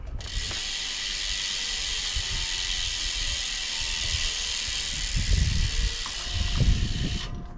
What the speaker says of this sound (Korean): 라쳇 소리도